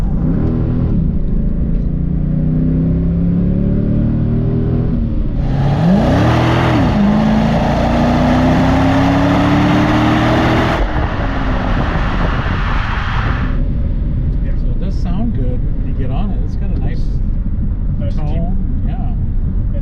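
A 2005 Chevrolet Corvette convertible revs and accelerates hard, the engine note climbing loud and close before dropping back as it upshifts and settles into a steady drone.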